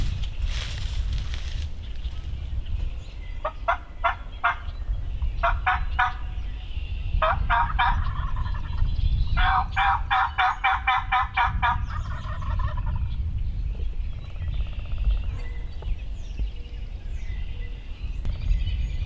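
Wild turkeys gobble in several rattling bursts at a moderate distance in Connecticut in spring, one call following another over a low outdoor rumble.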